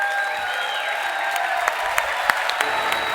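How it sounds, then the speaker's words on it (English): An audience applauds steadily at a speaking event, a dense, even wash of clapping with a few sharper claps standing out, close and loud throughout. "would you please stand and give this amazing individual a massive round of applause"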